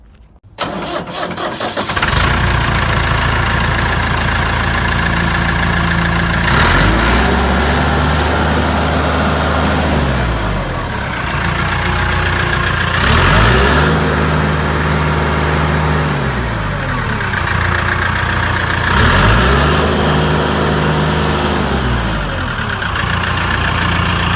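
A Fermec 640B backhoe loader's diesel engine cranks, starts with a burst, then runs steadily at a loud, close idle with repeated rhythmic revving swells, no talk over it.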